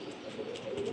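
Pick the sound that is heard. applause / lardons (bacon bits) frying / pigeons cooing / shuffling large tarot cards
pigeons cooing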